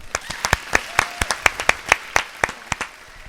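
Podcast hosts and a small audience clap to welcome a guest, with sharp distinct claps in an irregular quick rhythm that sounds like a few people close to the microphone.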